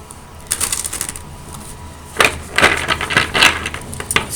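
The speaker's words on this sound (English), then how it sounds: "So I'm not able to shuffle it the way I usually shuffle." Tarot cards shuffled by hand in an unusual way, giving bursts of papery riffling and flicking, a short burst early then a denser run of crisp shuffles, close and fairly loud with no talk.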